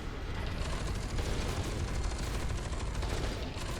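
Dense, continuous gunfire mixed with explosions fills a F.E.A.R. 2 video game firefight, a loud unbroken barrage with no gaps for the full stretch.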